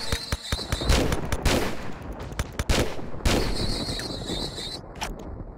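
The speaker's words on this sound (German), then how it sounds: "Wir nehmen mal den Revolver." Revolver shots in Tomb Raider 4 ring out as sharp, loud reports, several spaced irregularly over a few seconds among other game sounds, with no talk.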